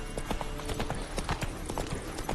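Roach the horse trotting in The Witcher 3, a quick, close, rhythmic clip-clop of hooves that carries on without a break through the whole stretch.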